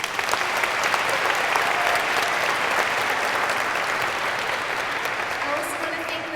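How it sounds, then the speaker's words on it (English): An audience at a guest speaker event claps steadily, a dense, even wash of applause lasting the whole stretch with no voices rising above it. "So let's give them a round of applause."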